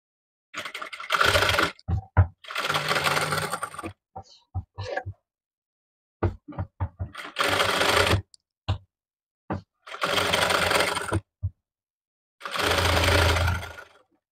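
Sewing machine stitching a lining onto the main panel of a cotton summer frock, running in five long bursts separated by short pauses and small clicks, close and loud with no talking.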